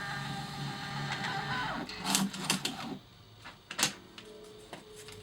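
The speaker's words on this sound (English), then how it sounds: "2284 80 millimeter thermal printer." A Quorion QMP 2284 80 mm thermal printer on a hospitality cash register prints a daily report. Soft whirring feed is broken by a few short, sharp buzzing bursts, fairly quiet and close, with no talking.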